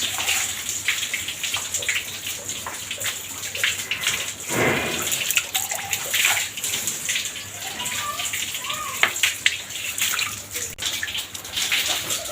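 Water is poured over a restless cow during a farm bath, a continuous splashing and trickling close by, broken by a heavier gush partway through, while a person talks over it intermittently.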